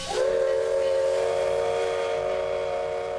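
A steam locomotive lets out a loud, sustained whistle with steady hiss beneath it, holding strong and close for several seconds without any talking.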